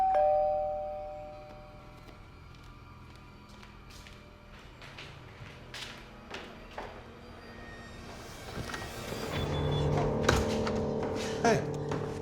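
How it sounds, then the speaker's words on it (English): A doorbell chimes at the start, followed by quieter household sounds such as thuds and movement, then louder clatter and indistinct voices toward the end. "So when the doorbell rang,"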